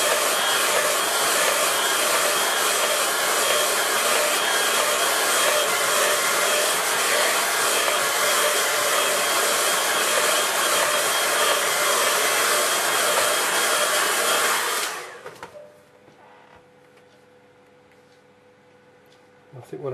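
A hair dryer blows over a watercolour landscape painting, a loud steady whirring roar that runs continuously for about fifteen seconds, then cuts off, leaving a faint quiet room.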